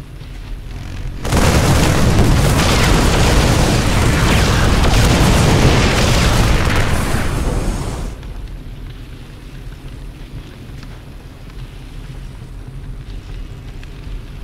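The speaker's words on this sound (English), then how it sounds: "I reckon a small nuke ought to do it." A nuclear missile detonates in the real-time strategy game StarCraft 2, a huge sustained roaring boom that swells abruptly, holds loud for several seconds, then drops away into a low rumbling aftermath.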